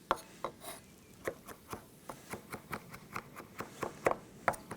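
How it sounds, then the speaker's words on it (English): Knife chopping lamb kofte ingredients on a board outdoors at a barbecue, a run of about fifteen crisp, fairly quiet, irregularly spaced chops up close with no talk. "Finish off chopping."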